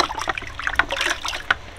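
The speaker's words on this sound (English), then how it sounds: "you just take it and just dunk it in the water" A scrubbed wooden-style duck decoy is dipped into water, giving short splashes, sloshing and dribbling, with a few brief watery plops close by and no one talking.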